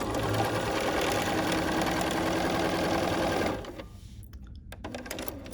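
A sewing machine runs steadily, stitching fabric pieces together with a fast, even mechanical chatter for about three and a half seconds, then stops, leaving faint handling clicks.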